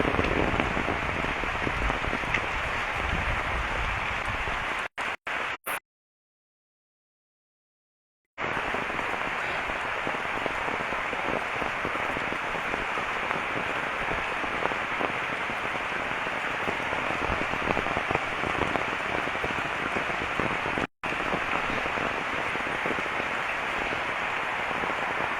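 Steady, loud rain hisses down on a village road for the whole stretch, an unbroken wash of drops interrupted only by a couple of brief silent cuts.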